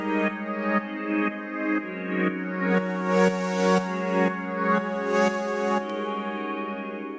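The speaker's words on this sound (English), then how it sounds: "You can hear we use it as a pad, and then we sidechained it to our kick" An evolving synth pad from an additive synth app, sidechained to a kick so its sustained harmonic chord swells and dips in a steady pumping rhythm, with no voices.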